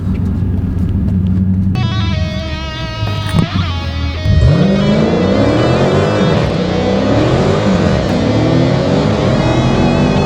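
A car engine droning and revving while driving, loud and close from inside the cabin, with pitch rising and falling through gear changes and a steady road rumble underneath.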